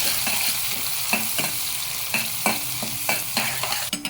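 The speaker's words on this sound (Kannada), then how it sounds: "ಇದನ್ನು ಚೆನ್ನಾಗಿ ಫ್ರೈ ಮಾಡ್ಕೊಬೇಕು" Mustard seeds, cumin, curry leaves, green chilli and chopped onion fry in a hot pan with a steady hiss, broken by repeated scraping stirs of a spoon at an uneven rhythm, close and fairly loud.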